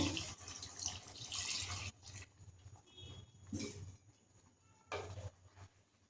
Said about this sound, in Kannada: ಒಂದೆರಡು ಲೋಟದಷ್ಟು ನೀರು ಹಾಕ್ಕೊಳ್ತೀನಿ.